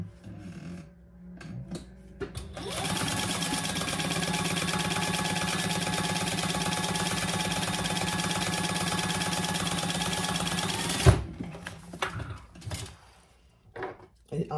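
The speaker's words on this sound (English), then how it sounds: "now we're gonna just sew across the top here" A sewing machine stitching across the top of a convertible hip bag: a few handling clicks, then a steady mechanical whirr of rapid stitching for about nine seconds that stops abruptly, followed by scattered knocks and rustling.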